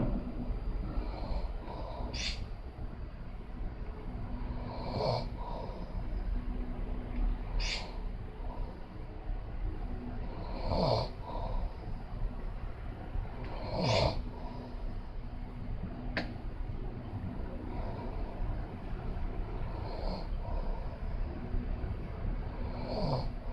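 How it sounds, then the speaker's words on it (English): A person snores in slow, regular cycles, each breath a rough rasping rattle repeating every few seconds against a faint steady background hum, fairly quiet and near. "as soon as he opens his mouth, he's gonna start snoring."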